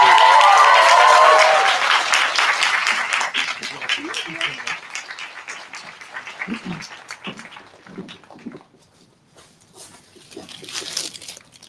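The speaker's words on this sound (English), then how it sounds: "How about a big round of applause and thanks?" A graduation audience breaks into loud, dense applause that swells for the first few seconds, then gradually thins out and fades as a speaker's voice returns over scattered claps.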